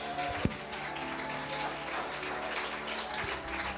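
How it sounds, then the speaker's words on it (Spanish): Church congregation clapping for the Lord during a Spanish-language sermon, a dense steady patter of many hands filling the room, one loud thump near the start. "Dale un aplauso al Señor aquí."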